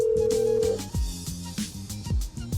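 A phone call is being dialed, with a steady tone cut off and followed by a quick series of short, rhythmic dialing beeps, close and clear, with no talk.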